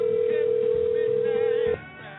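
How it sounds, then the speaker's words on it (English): Telephone dial tone holds a steady, loud single pitch before cutting off abruptly, followed by quieter line noise as the call begins ringing; no one speaks. "All right, it's ringing."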